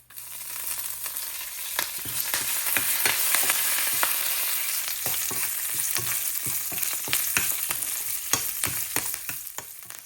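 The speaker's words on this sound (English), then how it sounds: "Fry these until the mustard seeds splutter" Mustard seeds splutter in hot oil for a tadka for ridge gourd chutney, giving a steady sizzle punctuated by frequent sharp crackling pops, close and fairly loud.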